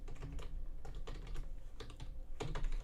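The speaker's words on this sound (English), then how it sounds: "still getting used to this keyboard" A computer keyboard is typed on in quick, irregular bursts of close, clattering keystrokes, with no voices.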